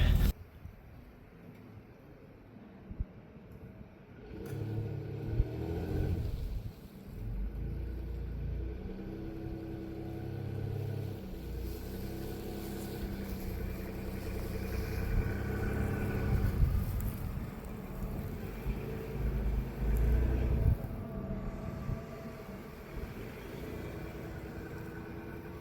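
A 1998 Dodge Grand Caravan SE starts up and runs with a low rumbling engine while backing out, the motor droning steadily with a few faint clunks over most of the stretch.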